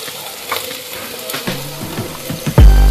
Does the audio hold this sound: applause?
no